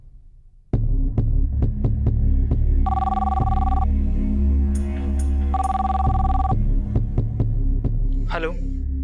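A telephone rings in short repeated bursts, loud and close, over a steady low throbbing hum, followed by a brief electronic warble near the end.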